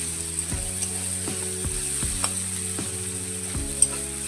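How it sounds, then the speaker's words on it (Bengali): Chopped garlic and onion frying in oil in a pan for street-style mixed chowmein give a steady, close sizzle that runs throughout, with a low tonal backing underneath. "পেঁয়াজগুলো রসুনের সাথে 2 থেকে 3 মিনিট ভেজে নিন।"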